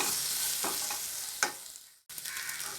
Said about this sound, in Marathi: पुन्हा 4-5 मिनिटं मीडियम गॅसवरती परतत राहायचं आहे.